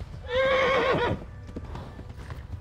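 A horse in the medieval game Kingdom Come: Deliverance gives a loud, wavering neigh at close range, followed by a softer patter of hooves and rustling, with no talk.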